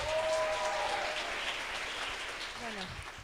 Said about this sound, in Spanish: vamos a recibir con un fuerte aplauso a Chloe Haremsuk